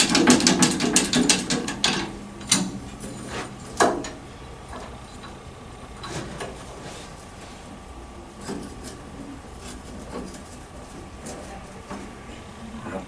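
A Load Pro coilover spring compressor tool ratchets in a rapid run of loud, close clicks at first, then slows to scattered single clicks and clunks that fade to quieter, sparser taps.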